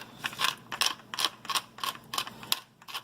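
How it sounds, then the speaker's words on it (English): A hand pepper grinder cracks black peppercorns in a rhythmic series of about eight gritty, ratcheting twists, close and clear with no talking. "I like black pepper, so I'll keep grinding until I feel like I've got enough in there"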